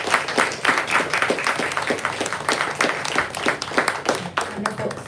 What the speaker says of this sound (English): Let's do one last round of applause.